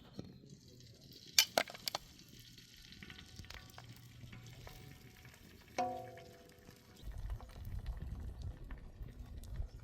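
Beaten egg for an Italian-style frittata poured onto a hot dosa griddle over medium heat, giving a low steady sizzle with a few sharp clinks and taps of utensils, the frying growing fuller toward the end; no talk.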